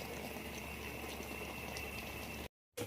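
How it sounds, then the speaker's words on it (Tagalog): Adobo with chicken feet and long beans boils in a pot with a steady bubbling and simmering sound, close and moderately quiet, that cuts out briefly near the end before resuming. "Kulo-kulo-kulo pa."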